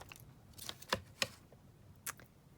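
Scissors snip through paper ephemera for a Christmas junk journal, giving a few sharp, close cuts spaced unevenly over quiet room tone.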